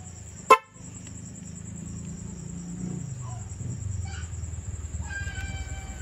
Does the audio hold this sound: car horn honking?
yes